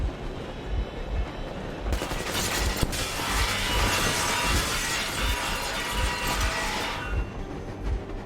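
A train engine runs in the video game Metro Exodus, a steady mechanical rumble and clatter with regular low thumps that swells in the middle and then eases off.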